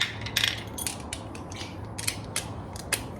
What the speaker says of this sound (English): then we go and tighten the bottom one.